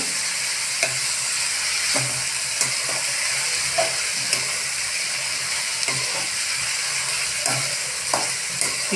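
Chopped onion, capsicum and tomato sizzle steadily in a hot pan for a mixed vegetable bhaji, with a spoon scraping and stirring at irregular intervals over the constant frying hiss.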